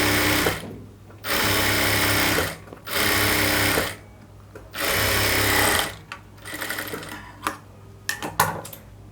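A sewing machine stitches the side border of a piece of fabric in loud, close, whirring runs of one to two seconds, broken by short pauses and ending in a few quick stuttering bursts.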